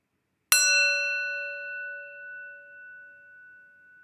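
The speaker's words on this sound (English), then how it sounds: "warm up the bell" A single bell or chime is struck once, ringing out in a clear sustained tone with bright overtones that slowly decays over several seconds, alone in a quiet room during a breathing exercise.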